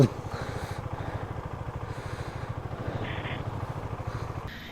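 Motorcycle engine ridden on a steep mountain road near Shimla, a steady pulsing low engine drone held close and continuous throughout.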